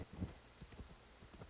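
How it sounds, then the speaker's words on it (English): A horse's hooves in Assassin's Creed Valhalla, striking along in a quick, uneven clip-clop rhythm at a fairly quiet level, with soft ambient noise behind. "our horse is not Skyrim levels of horsing, but it is doing its best"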